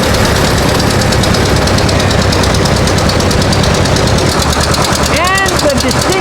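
Antique John Deere tractor engine chugging in a rhythmic pulse through a small-town anniversary parade in Fort Kent, loud and steady amid crowd murmur, with a brief horn-like tone near the end.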